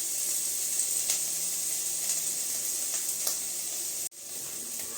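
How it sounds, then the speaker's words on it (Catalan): Green pepper, garlic and parsley sauté in oil in a pan for a Catalan rice dish, making an even, bright sizzling hiss that runs without a break and then cuts off abruptly near the end. "Quan tenim el pebrot mig sofregit, hi afegim all i julivert."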